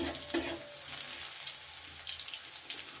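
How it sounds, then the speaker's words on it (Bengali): Garlic frying in oil, a soft, continuous sizzle with a faint clink near the start, heard close but quiet. "রসুনটা ভাজা ভাজা হয়ে গেছে"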